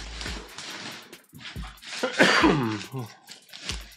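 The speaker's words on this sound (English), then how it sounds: "Residual cough. Been coughing for like 3 weeks." Several harsh coughs and throat-clearing bursts from a lingering three-week cough, close and fairly loud, come in short separate fits with brief pauses between them.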